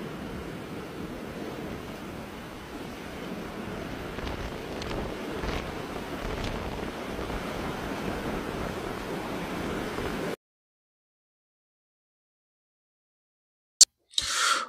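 Ocean surf and waves produce a steady broadband roar with wind noise for about ten seconds. Silence follows, then a short burst of sound at the end.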